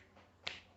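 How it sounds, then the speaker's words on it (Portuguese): A single sharp finger snap, close and crisp, rings out once in an otherwise quiet room. "no estalo, no estalar de dedos"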